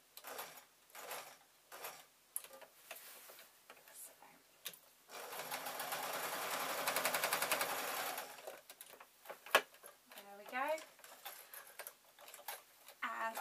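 Sewing machine stitching a tote bag, several short quiet bursts of rapid ticking, then a longer steady run of stitching, followed by more brief stops and starts with faint handling noises.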